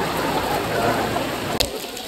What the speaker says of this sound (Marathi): यार खूप खतरनाक पाऊस आलाय